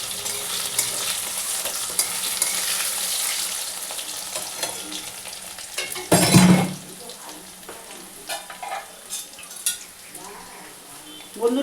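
Potato pieces fry with cumin seeds in a pan, sizzling continuously with stirring scrapes, and a loud burst of spattering and clatter partway through as more goes in.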